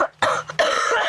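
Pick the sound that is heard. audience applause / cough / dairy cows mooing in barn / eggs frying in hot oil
cough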